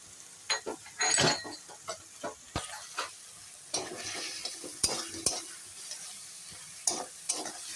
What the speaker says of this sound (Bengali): দেওয়ার পর ভালো করে এখন সুন্দর করে নেড়ে নিচ্ছি দেখো